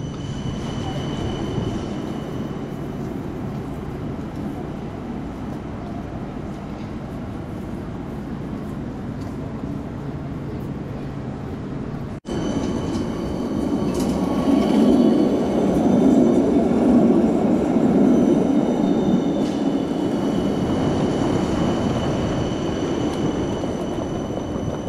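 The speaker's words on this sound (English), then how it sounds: "I'm sure you can hear me rolling my luggage along." Wheeled luggage rolls over the ground in a city on a walk from Helsinki toward Tallinn, giving a continuous rumbling roll that grows louder and rougher partway through, with no talk.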